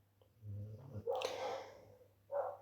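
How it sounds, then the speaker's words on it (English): A dog barks a few times in the distance, short muffled bursts separated by pauses over a low steady hum. "that's our neighbour's dog barking up a storm"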